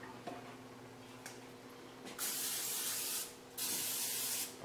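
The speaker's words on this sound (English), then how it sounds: "Put some Pam spray over here." Pam cooking spray hisses onto a warm skillet in two bursts, a steady close hiss followed by a pause and a second spray, with faint ticking in the background.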